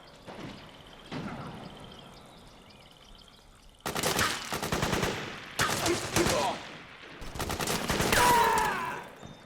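Gunfire in the video game Metal Gear Solid 4 on PS3, with loud bursts of rapid automatic fire in several long volleys, preceded by a few scattered single shots and distant battle noise.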